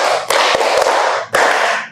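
Hands clapping in a classroom ice-breaking clap game, a few sharp close claps in quick succession amid a broad noisy wash.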